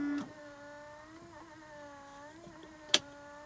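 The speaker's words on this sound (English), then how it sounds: "It is just a 1-speed wiper, so you turn it on and you can push up and it sprays fluid." The one-speed windshield wiper and washer of a new Polaris Xpedition run with a steady electric motor whir that shifts pitch slightly, with a brief sharp spray burst near the end.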